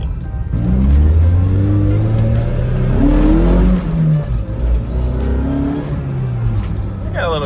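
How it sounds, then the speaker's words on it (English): Toyota AE86 Levin on the street, its engine loud and close as it accelerates and revs through rising gear pulls, with people talking over the engine noise. "I don't know if you guys can hear how loud this thing actually is though."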